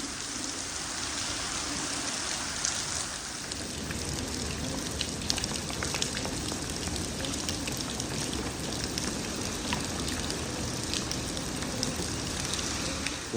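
Steady rain falling outdoors on a river fishing trip during a thunderstorm with high winds, a constant dense hiss of drops pattering on surfaces, moderately quiet and without voices.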